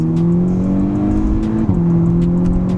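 A VW Golf R Mk6 engine roars steadily under load, its pitch climbing then dropping briefly at a quick gear shift before pulling again, loud and close.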